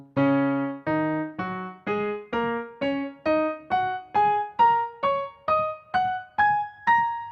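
Piano octaves descend steadily in a run of about fourteen evenly spaced struck notes, each ringing briefly before the next, played alone and clearly.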